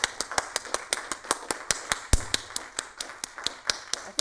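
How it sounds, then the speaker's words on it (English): Sharp, evenly spaced claps ring out at a brisk steady rhythm, about four per second, from a small audience applauding after a live-coding gallery performance, close and clear with no voices over them. "That was us applauding"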